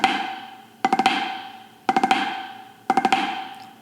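Three fast drum ruffs on a snare, each a tight burst of four strokes with RLLR sticking, spaced about a second apart and ringing out between bursts, loud and close with no talking.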